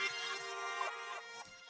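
A short reversed accent sample, pitched up 500 cents to fit a dark F minor FL Studio beat, swells as a bright tonal texture and then fades out quickly.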